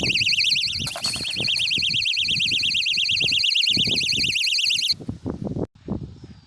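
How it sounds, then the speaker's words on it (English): Electronic tracker on a disc golf disc, built for players with visual impairments, emits a loud, continuous warbling high-pitched tone for about five seconds, then cuts out. A voice talks underneath the tone throughout. "you now have a beeping disc that can be tracked"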